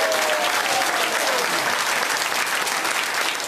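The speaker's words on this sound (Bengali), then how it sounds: "এদের জন্য আপনার সবাই জোর করে তালি সবাই দেবেন" An audience at a Bhagavatam festival gathering in Jhargram, West Bengal, breaks into dense, sustained applause, loud and unbroken for the whole stretch.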